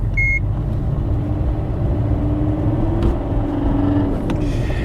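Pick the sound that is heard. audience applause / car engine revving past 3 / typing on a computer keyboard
car engine revving past 3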